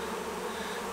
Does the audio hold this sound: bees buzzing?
yes